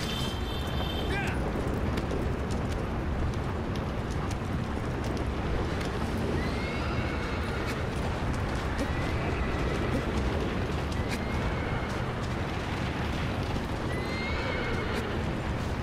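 A horse in Shadow of the Colossus Remastered on PS4 gallops under dense, steady game noise, with a few whinnies rising above the constant rumble.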